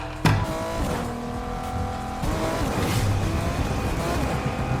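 A vehicle driving in Fortnite, with a continuous engine drone and tire noise near and loud, a sharp jolt near the start and a surge midway as it accelerates.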